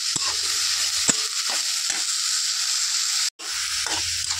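Food fries in a pan during Assamese khar cooking with fish head, giving a steady close sizzle broken by a few sharp scraping stir strokes and one brief cut to silence.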